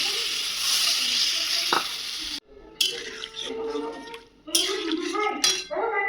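Curry with spices sautéing in a pan: a steady sizzle at first, then after a short break a spatula scrapes and stirs in uneven strokes while someone talks nearby.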